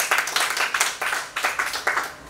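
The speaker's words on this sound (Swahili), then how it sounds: "kwanza mjipigie makofi" Graduates of a workforce skills training course clap for themselves at their ceremony, with a crowd of hands beating out quick, rhythmic bursts of applause close by.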